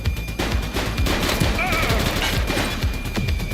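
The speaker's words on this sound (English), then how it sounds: "Shots fired!" Loud, close gunfire in the video game The Precinct: a dense fusillade of overlapping shots in quick succession, with faint voices under the barrage.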